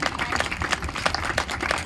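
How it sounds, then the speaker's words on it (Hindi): A seminar crowd gathered to celebrate an achievement claps in a brief burst of applause, with uneven, overlapping hand claps at moderate loudness. "सभी के लिए एक बार जबरदस्त तालियां।"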